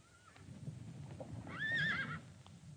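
Red Devil, a wild mustang, gives a loud, high whinny while being ridden. The neigh rises and falls over a rumble of hooves and clip-clop.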